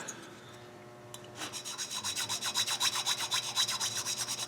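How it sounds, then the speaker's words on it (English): A hand file rasps back and forth across a saw tooth in a quick, even rhythm of close, gritty strokes that start after a brief pause and continue steadily to the end. "Filing into that."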